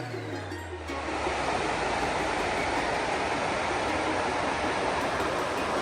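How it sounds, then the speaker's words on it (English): A raging waterfall in Idaho's Pioneer Mountains roars as a dense, steady broadband rush, constant and loud with no pauses, after a brief low hum at the start. "Looking down at a pretty raging waterfall."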